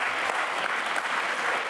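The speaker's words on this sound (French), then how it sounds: "On l'applaudit, c'est là aussi, s'il vous plaît." Applause from the audience at a university lecture on crises in the Mediterranean and Middle East forms a dense, even wash of clapping that holds steady throughout, with no talk over it.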